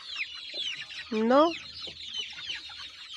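A brooding hen sitting in a dark coop gives a short, rising run of clucks in the middle, close and clear, while faint rustling fills the rest.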